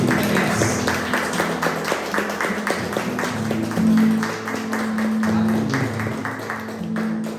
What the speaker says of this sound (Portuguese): Vamos aplaudir Ele bem forte, igreja